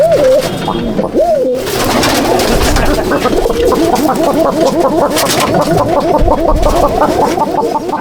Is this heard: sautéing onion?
no